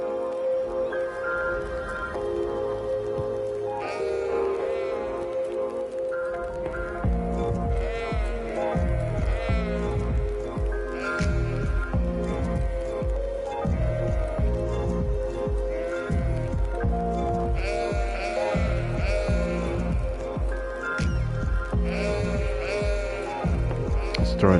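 Sheep bleating in the city-building game Cities Skylines Remastered on PS5, several repeated bleats over steady in-game ambience and background music, with someone talking over them.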